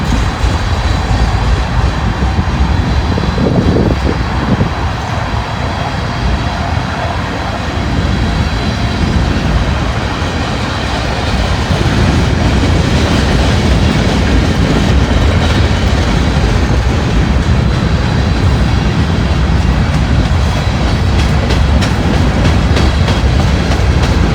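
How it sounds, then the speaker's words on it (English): A Buckeye freight train rolls past on a hill with a loud, continuous rumble and a rhythmic clickety-clack of wagons that holds steady throughout, with no voices. "Buckeye freight railing up there on the hill"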